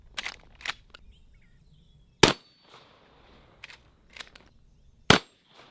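Shots from a Henry Axe .410 are fired at a steel target from 15, 10 and 7 yards. Several sharp cracks ring out, spaced apart with quieter distant pops and faint ringing between them, outdoors.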